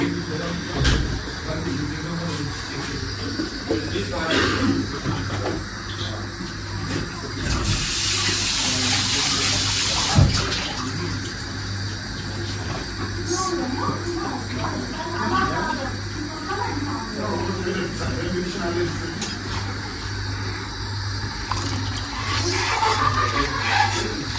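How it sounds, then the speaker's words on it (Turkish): Water is poured into a cooking pot in a home kitchen while making ashure, a brief gushing rush for a few seconds in the middle, amid kitchen clatter and people talking. "Bir bardak kadar bir su koyayım."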